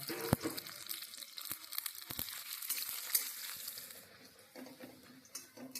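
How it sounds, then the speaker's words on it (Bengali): Chopped onions frying in hot oil for a home-style chicken curry, giving a soft, steady sizzle with scattered crackles and a few sharp clicks near the start, fading a little toward the end. "বাকি যেটুকু রেখেছিলাম সেটা তেলের মধ্যে দিয়ে দিলাম ভাজবার জন্য"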